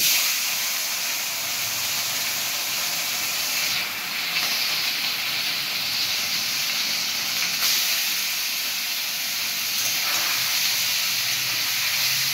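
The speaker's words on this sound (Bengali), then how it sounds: "এবার তেলের মধ্যে দিয়ে দিচ্ছি নুন হলুদ মাখিয়ে রাখা মাছগুলো।" Turmeric-and-salt coated mourola fish hiss and sizzle steadily in hot oil, a continuous broad frying noise with no talking.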